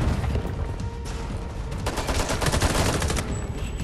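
Sustained rapid gunfire with heavy booming blasts from a grenade and weapons in the video game Homefront: The Revolution, loud and continuous throughout with dense overlapping shots.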